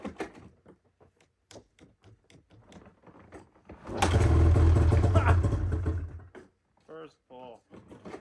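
A 1997 Polaris snowmobile engine catches on the first pull, bursting into a loud rough idle for about two seconds before dying back, with clicks and handling noises around it outdoors in Alaska.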